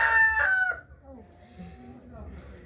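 A rooster at a home chicken coop crows loudly and close at the start, followed by softer clucking and low fowl murmurs that fade as the bird settles.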